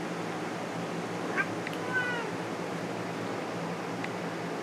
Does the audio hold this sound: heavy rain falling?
no